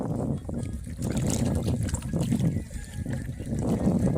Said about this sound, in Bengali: এখানে বসে বসে জলের কলকল শব্দ